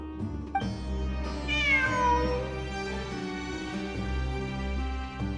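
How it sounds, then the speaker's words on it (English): A cat in the video game Genshin Impact meows repeatedly and clearly in long, drawn-out calls that rise and fall over a steady background tone, with no talking. "It really is a cat."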